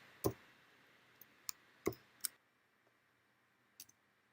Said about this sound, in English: I go back to the script editor and click Run